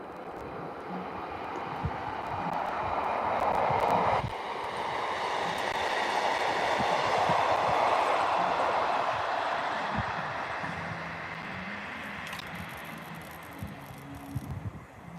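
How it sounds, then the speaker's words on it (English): A long, heavy rumble swells and fades over several seconds, like a train rolling past at moderate distance, with a few clanks and no talking. "Was that the train?"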